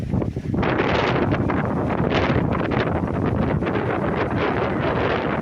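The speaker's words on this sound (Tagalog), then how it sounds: "Medyo malakas ang hangin ng konti ngayon" Strong wind roars steadily across the microphone at an overcast farm lot beside a creek in Majayjay, Laguna, a loud, continuous buffeting rush with gusty surges throughout and no voices.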